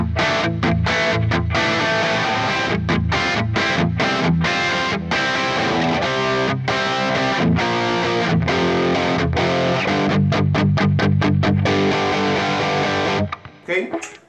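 A Les Paul electric guitar on its bridge pickup plays through a driven, distorted tone with reverb and a noise gate, loud chugging chords broken by short clipped gaps before the final ring-out fades.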